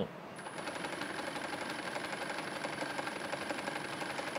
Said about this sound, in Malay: D1, nama pattern tu D1, dia akan jahit macam ni.